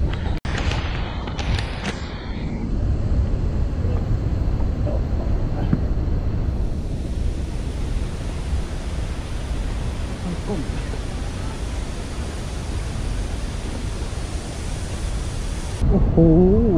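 Tad Yueang waterfall pouring down a high cliff into spray, a loud broadband roar with heavy wind buffeting on the microphone and someone talking over it.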